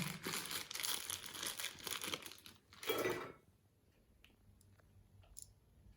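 Crinkling of a plastic bag of M6 x 60 anchor bolts, a dense rustling burst for about three seconds, then a louder crackle before it fades to a few soft clicks.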